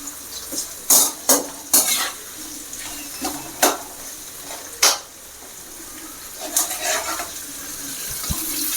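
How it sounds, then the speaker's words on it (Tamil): Onions sauté in a pan for a mutton head curry, with sharp spoon-on-pan clanks and scrapes cutting over a low background sizzle, then a busier stretch of stirring toward the end. "வெங்காயம் நல்லா வதங்கணும்"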